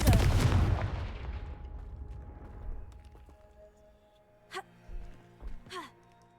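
A Confringo fire spell in Hogwarts Legacy bursts with a loud, roaring blast that decays over a couple of seconds, followed by quieter magical whooshes and a few short effects later on.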